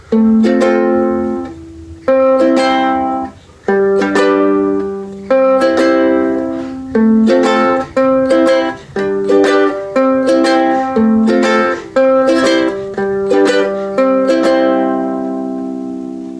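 A ukulele is strummed in a steady pattern, each chord followed by a quick extra strum, bright and close, with no voices.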